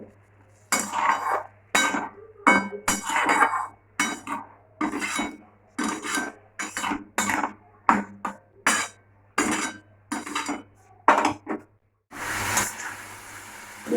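A spice paste thinned with a little water is stirred and fried in a metal pan. A spoon knocks and scrapes against the pan in a steady run of sharp, close clinks, ending in a burst of hissing sizzle.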